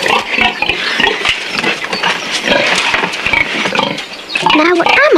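Pig grunts and squeals from a baby turned into a pig in a 1985 Alice in Wonderland television adaptation, a busy stream of snorting, squealing noises close up, mixed with a voice and clattering sounds throughout.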